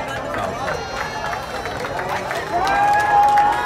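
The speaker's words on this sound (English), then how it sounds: "Fans are cheering." Crowd of fans cheering at a boys' championship soccer match, a broad roar of voices swelling and growing louder near the end, with a whistle-like tone rising over the noise.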